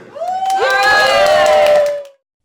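Nursing home residents cheering: a loud, close burst of voices rising together in a sustained whoop for about two seconds, then cutting off.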